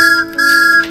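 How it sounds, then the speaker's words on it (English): Thomas the Tank Engine's train whistle, one steady high tonal blast broken by a short gap and lasting under a second, loud and alone. "Thomas's whistle."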